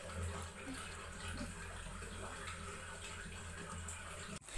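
Avial vegetables boil on the stove in a pot, a low continuous bubbling wash of sound that stays faint and even for a few seconds before a brief knock at the end.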